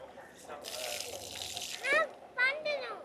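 Tap water running and splashing in brief gushes while something is washed, with people talking close by over the flow.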